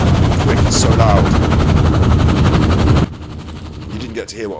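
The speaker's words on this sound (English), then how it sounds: "Rescue helicopter." Rescue helicopter in the video game Firewatch, a loud continuous rotor chop and engine roar that cuts off abruptly, followed by quieter sounds and brief voices.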